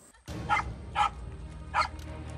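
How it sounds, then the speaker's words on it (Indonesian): Hunting dogs on the trail of prey give three sharp, fairly close barks or yelps at uneven intervals over a low, rumbling outdoor background. "Lolongan anjing sudah terdengar."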